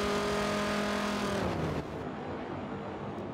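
Corvette race car accelerating down a straight in an endurance racing video game, a loud engine whine climbing through the gears with a rising pitch, then dropping off abruptly into a quieter hum.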